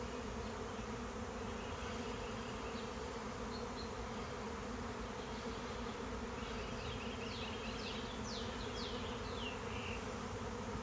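Bees from a newly caught swarm buzz steadily around a swarm trap, a dense continuous hum with individual bees zipping close by now and then, no talking.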